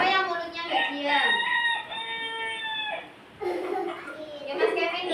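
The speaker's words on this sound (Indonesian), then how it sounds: "Suara ayam jantan indah sekali" A rooster crows in a classroom setting, its drawn-out harmonic call rising and falling over a few seconds amid the chatter of young children's voices.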